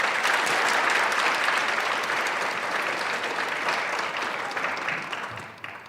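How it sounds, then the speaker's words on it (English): Loud, sustained applause from an audience at a high school junior class academic awards ceremony, a thick continuous wash of clapping that holds steady, then thins and fades near the end. "Let's give a big round of applause for 11th grader Sloan Markin."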